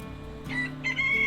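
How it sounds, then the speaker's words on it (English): Chickens cluck and a rooster crows loudly nearby, the crowing rising in a couple of bright, sustained calls over steady farmyard clucking. "trying to talk over the chickens"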